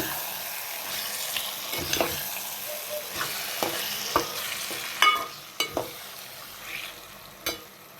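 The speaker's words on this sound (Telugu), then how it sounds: "గోంగూర వేసుకున్నాము ఇప్పుడు కలిసేటట్టు తిప్పుకుందాము మొత్తం" Prawn and gongura (sorrel leaf) curry sizzles gently in a pan while a spoon stirs it, giving scattered scrapes and knocks over a soft, steady frying hiss.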